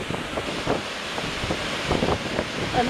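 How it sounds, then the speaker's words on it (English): Storm wind and waves surging across open water at Campbell River in 2012, a loud, steady roar with repeated gusting swells and rushing wash, heavy wind buffeting the microphone throughout. "the waves are going across the water"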